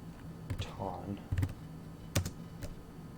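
Typing on a computer keyboard gives scattered close clicks and short bursts of keystrokes, quiet overall, with a voice faintly heard in the background.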